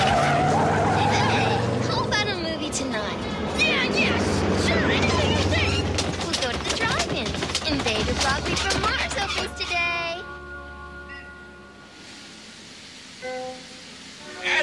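Cartoon car braking hard and skidding after a beach day, a long loud screech of tires mixed with music and voices, fading toward the end.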